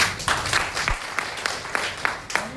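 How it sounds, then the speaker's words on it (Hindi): A seated audience at a consumer business meeting claps together in a loose, rhythmic burst. The claps come at fairly even intervals at moderate loudness, with faint talk and room noise underneath. "हो जाए ताली।"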